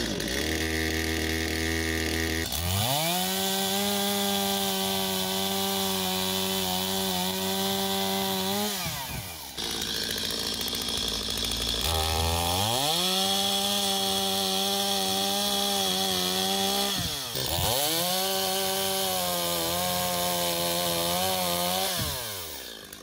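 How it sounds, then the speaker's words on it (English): A chainsaw roars steadily, cutting into wood in three long sustained bursts, its engine pitch dipping and recovering between cuts, loud and close. "why am I going to use a handsaw if I can convince Sarah to use a chainsaw?"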